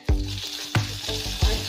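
Hot tempering spices sizzle and crackle in oil while frying for a tangy tomato chutney, with sharp bursts of spattering over a steady frying hiss and no talking.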